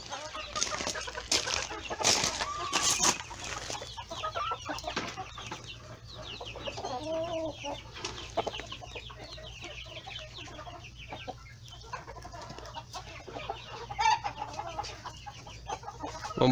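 Ornamental Polish chickens and a rooster in a pen, clucking and murmuring in irregular bursts, with a few louder squawks early on over a low background hum.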